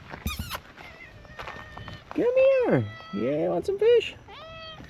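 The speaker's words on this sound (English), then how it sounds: "She's been hiding because she knows she was a bad kitty, but now we're friends again." A cat meows several times at close range, drawn-out rising and falling cries in a rainy outdoor setting, with a person talking softly to it between the calls.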